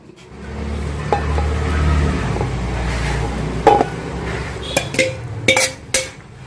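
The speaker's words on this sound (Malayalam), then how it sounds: "പുഴുക്കിൽ ചേർക്കാനുള്ള തേങ്ങ ജീരകം കൂട്ടി അരച്ചെടുക്കാം" A mixer grinder grinds coconut with cumin for Guruvayur Ekadashi puzhukku, its motor whirring steadily for about three seconds before winding down, followed by several sharp metallic clinks from the jar and lid, with no voices.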